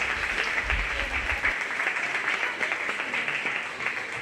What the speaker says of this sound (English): we'll go ahead and give all 4 of these girls a big round of applause for a really nice job